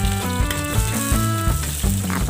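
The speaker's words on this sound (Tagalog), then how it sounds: "igisa lang yan" Ingredients sautéing in hot cooking oil in a pan over a fire, a loud, steady close sizzle and crackle that runs without pause, with a faint rhythmic scraping beneath it.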